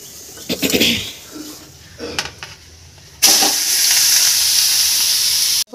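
Grated beetroot drops into a hot pan and breaks into a loud, steady sizzle of frying that holds for a couple of seconds after some brief clatter and faint talk.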